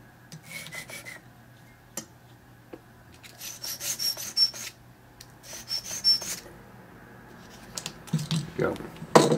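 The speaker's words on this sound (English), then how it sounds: "I'm gonna take this 400 grit over a little bit. Try to smooth out that area." A key blank for a Master Lock No. 40 disc padlock is rubbed with 400 grit sandpaper, giving short, close rasping strokes in three separate bursts with light handling clicks between them.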